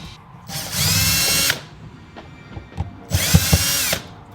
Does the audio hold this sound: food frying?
no